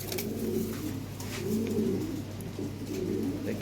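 Female European toy Lahore pigeons coo in low, rolling phrases that repeat in several bursts nearby over a constant low hum, with no talking.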